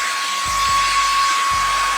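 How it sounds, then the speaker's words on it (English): A small vacuum cleaner runs inside an older BMW's interior with a steady, close, high whine and hiss, broken by a few soft low knocks. "Look at this little vacuum,"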